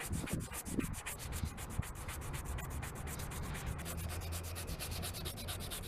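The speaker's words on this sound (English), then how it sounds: "And then use my little sanding block here. Now you are grinding some plastic off." A sanding block rubs rapidly back and forth over a plastic indicator lens, a steady dense scratchy hiss with regular strokes lasting throughout, close and fairly quiet, with no talking.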